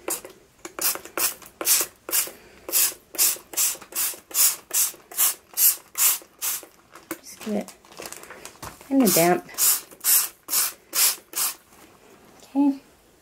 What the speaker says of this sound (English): Spray the paper towel so it's wet.